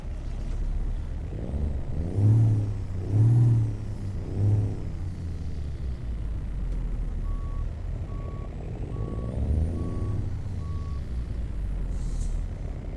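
A Kenworth T908 truck in American Truck Simulator starts up and settles into a low, steady diesel idle, with hissing air-brake bursts early on and a repeating reversing beep later, no talking over it.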